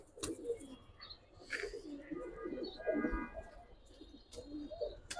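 Giribaz pigeons in a pair coo softly in repeated low rolling phrases, with a few brief higher chirps and flutters between them at close range.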